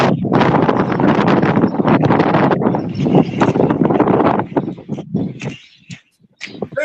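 Strong wind buffets an outdoor microphone in heavy, continuous rumbling gusts that dominate the sound, easing off and breaking up near the end.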